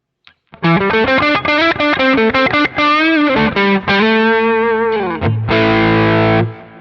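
Electric guitar played through a Kraken boost pedal on a Quad Cortex, a run of fast, distorted, mid-heavy notes that climbs through quick phrases before settling into a sustained ringing chord, loud and close with no talking.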